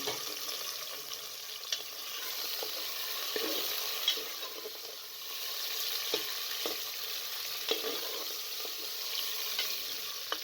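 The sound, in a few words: frying meat with garlic and ginger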